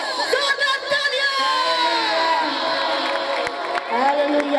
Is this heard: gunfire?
no